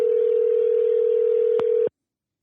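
A steady telephone call tone holds for about two seconds before cutting off abruptly, a single continuous electronic note with a brief click near the end, alone with no voices.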